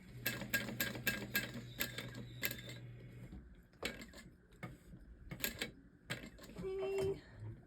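A sewing machine stitches glitter vinyl in short runs of rapid mechanical clicking, stopping and restarting several times with gaps as the work is repositioned.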